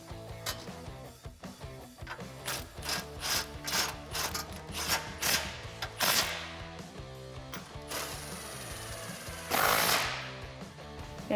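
Bolts on a Jeep Wrangler JL subframe being tightened, giving repeated sharp ratcheting clicks and metallic tool bursts at close range, with a louder longer burst near the end.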